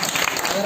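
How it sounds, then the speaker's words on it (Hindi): A crowd gathered to welcome an MLA at a ward meeting in Kamla Nagar bursts into dense, loud clapping, a short continuous burst of applause. "जोरदार तालियां विधायक जी स्वागत कर रहे हैं"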